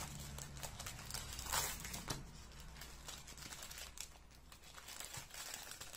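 Sheets of craft paper handled and crinkled, with intermittent soft rustles and crackles, one louder crinkle near the middle, quiet and close with no talking.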